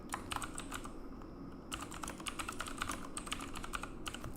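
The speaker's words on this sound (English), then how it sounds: "I got completely quiet because I wanted to focus on typing" Quiet, steady typing on a computer keyboard, rapid clusters of soft key clicks with a short pause midway before the tapping resumes in a brisk rhythm.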